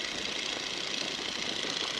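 A 1942 Boeing Stearman biplane's radial engine drones steadily in flight, throttled back to 1,750 RPM, a constant loud rumble heard from the cockpit with no break or talk.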